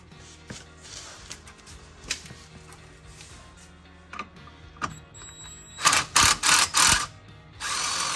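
A ratchet with an 18 mm socket works a bolt on a Jeep Gladiator Mojave's steering stabilizer, heard as scattered metallic clicks and clacks, then a cluster of louder, harsher ratcheting bursts near the end, close by.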